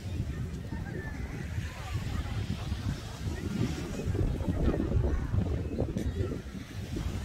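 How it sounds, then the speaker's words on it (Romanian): Wind gusts across a microphone outdoors at a St. Ives food and drink festival, making a steady low rumble that swells around the middle and then eases, with faint voices underneath. "Nu e frig, decât că bate vântul."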